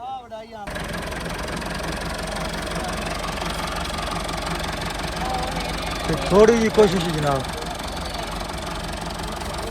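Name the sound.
tractor engine running while pulling a stuck trolley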